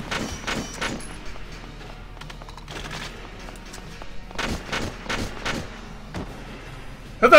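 A grenade explodes in Valkyria Chronicles among several sharp in-game blasts and gunfire-like bursts, loud and close, clustered near the middle and at the end.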